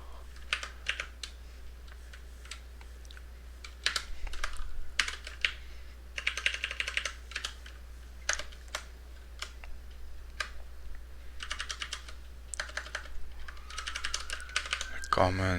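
Computer keyboard typing, with light clicking keystrokes coming in quick irregular bursts and short pauses, close and fairly quiet over a steady low hum.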